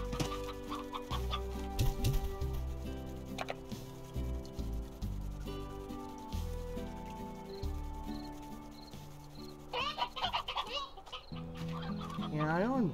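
Chickens clucking in the Slime Rancher video game, several bird calls and clucks in a steady run, fairly quiet and close, alone with no talk.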